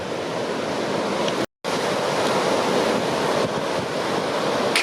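Ocean waves at Praia do Tombo under strong wind: a continuous loud roar of surf and gusting wind buffets the microphone, broken by a brief dropout, with no voices.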